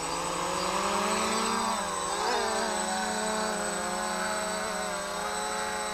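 A Flying 3D X8 GPS drone with eight rotors lifts off in a park, a steady loud multi-rotor whine with harmonic tones that waver and shift in pitch as it climbs and moves.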